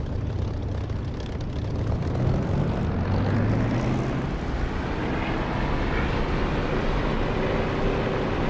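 A propeller aircraft engine in the DCS flight simulator throttles up for takeoff, a loud, steady drone and roar with a rising engine tone that holds through the whole stretch.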